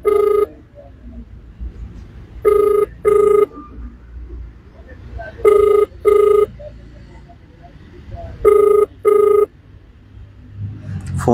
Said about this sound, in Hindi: फोन लग रहा है लेकिन उठा नहीं रहे।